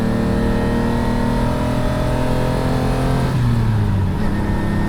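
A Lamborghini Countach's carbureted engine idles steadily and loud, then its pitch drops slightly near the end, a continuous close-up mechanical drone with no talk.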